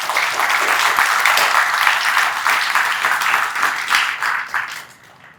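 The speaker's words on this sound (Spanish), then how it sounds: "Y unas fuertes palmas, por favor." Loud, sustained applause from a forum audience, dense clapping holding steady for several seconds before tapering off at the end.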